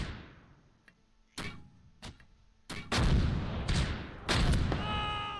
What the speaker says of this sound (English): We want to hit this with 2 of the heavy mortars.